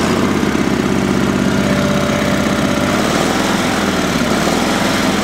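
A Sears SS/16 Twin garden tractor engine running steadily and loud up close, with a rough, throbbing drone that holds constant without letup.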